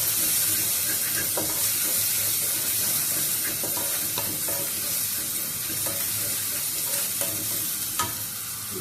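Garlic sizzles steadily in hot oil in a pan while being stirred, for a Bengali-style pumpkin leaf saag, with occasional clinks of the spoon against the pan rising over the continuous close hiss.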